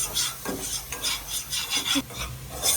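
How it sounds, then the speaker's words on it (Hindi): A spoon stirs a spoonful of plain flour as it fries in oil in a pan, giving a steady scraping, rasping rhythm with soft sizzling underneath, close and fairly loud with no talking. "1 चम्मच मैदा, इसको हम भून लेंगे इसी ऑयल में जो मैंने डाला है"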